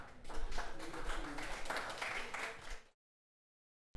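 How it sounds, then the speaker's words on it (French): Audience applause at a police and judicial training session on gender-based violence, a steady broadband clapping of moderate loudness lasting under three seconds before cutting to silence. "Et ceci sous vos applaudissements."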